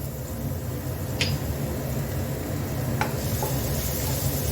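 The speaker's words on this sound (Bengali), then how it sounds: "ভাজা চিকেনের টুকরোগুলো তুলে নেবার পর ওই একই তেলে দিয়ে দেবো রসুনের কিমা" Minced garlic sizzles steadily in hot oil left in the pan after frying chicken, a constant close hiss with a couple of faint clinks and no talking.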